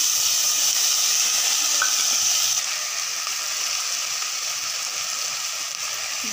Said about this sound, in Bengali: এবারে আদা রসুন, আদা রসুন আর পেঁয়াজ বাটাটা দিয়ে দেবো